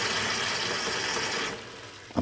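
Well water gushes steadily from a sink tap into a Spin Clean MK II record cleaning machine, a close, loud rushing fill that stops abruptly near the end, followed by a short knock.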